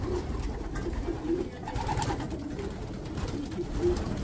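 Pigeons in a breeding loft coo in low, repeated rolling calls, several birds close by over a constant background hum, with no talking.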